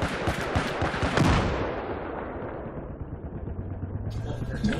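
Gunfire in the Battlefield 4 video game: a rapid burst of loud, close shots and booms in the first second or so, then a fading rumble with scattered distant pops and a low engine hum.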